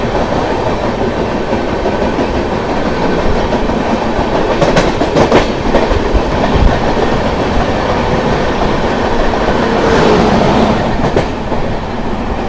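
A Gorakhpur–Yesvantpur train rumbles past close by as it is overtaken, a steady loud roar of wheels and carriages with rhythmic clickety-clack and occasional metallic rattles throughout.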